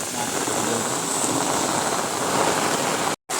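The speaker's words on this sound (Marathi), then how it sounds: "पाऊस हे बघा" Heavy monsoon rain pours down outdoors in a dense, even hiss that holds steady throughout and then cuts out briefly at the very end.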